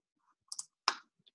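A few mouse clicks on a computer while a report is exported to Excel: a quiet pair of clicks, then one sharper click and a faint tick, close and isolated with no talk.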